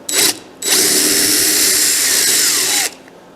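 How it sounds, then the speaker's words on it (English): An electric drill whines loudly in a short burst while drilling into the wood of an old rocking chair, pauses, then runs steadily for about two seconds before winding down. "I'm just going to drill into it and then muck it out with a chisel"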